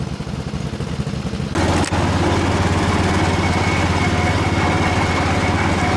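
A tractor engine runs close by, starting with a low rough chug and then rising into a steady, loud drone for the rest of the clip.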